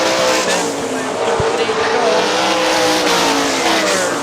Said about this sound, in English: Kyle Stuchel way sideways in between 1 and 2